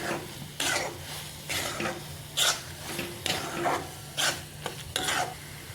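A spoon stirs red chili powder into raw banana sabzi in a pan, producing about seven rhythmic scraping strokes over a low, steady sizzle, close and moderately loud with no talking.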